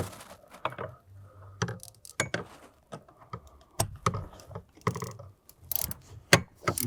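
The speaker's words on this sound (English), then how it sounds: "We'll set our 21 in with our ratchet." Quiet, close clicking of a ratchet turning a 21 mm socket on a rear shock nut of a Volvo XC90, in short irregular bursts of sharp pawl clicks with gaps between strokes.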